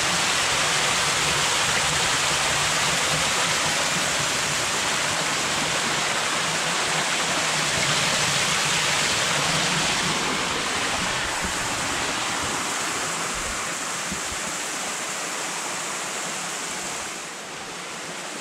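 The Falls of Cobb roar as water cuts down through layered volcanic rock, a loud, continuous rushing wash that stays steady and eases slightly near the end.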